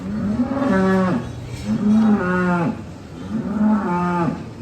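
A dairy cow on a farm moos three times in a row in autumn, each a long, deep, loud bellow from close by, separated by short pauses.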